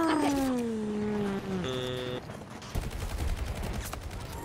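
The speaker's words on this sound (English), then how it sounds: "Oh my god, I'm being sniped from everywhere." Gunfire and sniper shots ring out in the video game Battlefield 2042, with a tonal whine that bends downward before a burst of dense, rapid crackling shots fills the last seconds at steady loudness.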